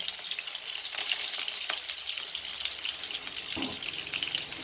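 Tofu frying in hot, boiled cooking oil gives a steady bright sizzle and crackle throughout, with scattered sharper pops and a brief louder spatter near the end, close and alone without talk.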